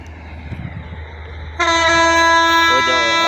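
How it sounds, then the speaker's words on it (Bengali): A train pulls into a station: a low rolling rumble builds, then a loud, sustained horn blares close by and holds to the end, with a second horn tone joining near the finish. "ওই যে অলরেডি ট্রেন চলে এসেছে"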